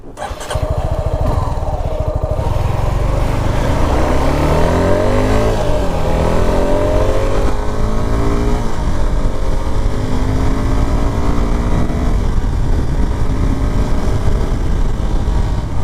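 Suzuki Gixxer SF 250 BS6 motorcycle engine and exhaust while riding, a loud, steady close-up drone with rising and falling rev sweeps as the rider accelerates through gears, unbroken throughout.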